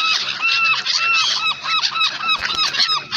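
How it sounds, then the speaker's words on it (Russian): Seagulls squawk close by, a dense overlapping chorus of repeated shrill, wavering cries that stays loud throughout. "это чайки летают вокруг"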